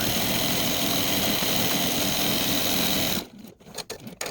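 Sewing machine stitching quilt fabric scraps, a fast, steady mechanical whir running close and loud for about three seconds before stopping abruptly, followed by a few soft handling sounds.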